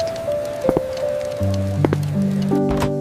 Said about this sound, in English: It started raining before I unpacked.